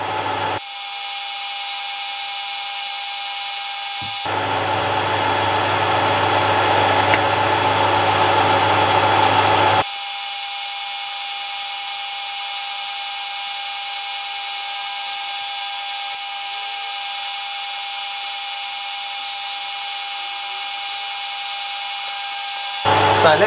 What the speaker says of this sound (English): So let's probably stop the lathe there a minute.